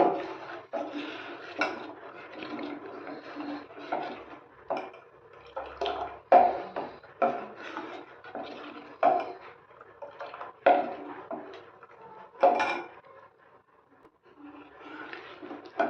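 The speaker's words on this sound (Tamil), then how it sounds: "இந்த கஞ்சி பார்த்திங்கன்னா கிண்டிகிட்டே இருக்கணும்" A spoon scrapes and knocks against a pot while thick cassava porridge is stirred, giving soft rhythmic strokes and occasional louder clinks, fairly close and quiet with no speech.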